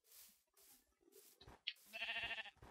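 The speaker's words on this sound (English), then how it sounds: "There's more sheep just frolicking in the in the nothingness." Sheep bleat in the video game Minecraft, a few short wavering bleats rising over soft ambient game sound, with a brighter burst of in-game activity near the end.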